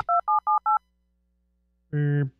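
Telephone keypad dialing while checking voicemail: four short, evenly spaced DTMF beeps, then a pause and one longer, lower tone, heard clearly with no talking over them.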